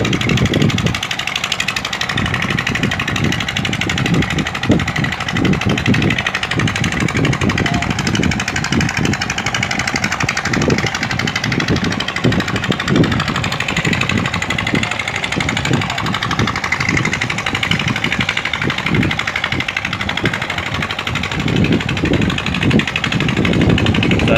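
The engine of the ship MV Divine Success runs steadily and loudly throughout as it berths, with a constant mechanical drone and people talking over it.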